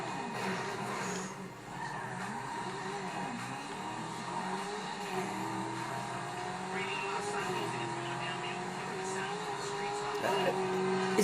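Jester race car driven in GTA V, with a continuous engine drone and tire skids running under steady talk, slightly louder toward the end.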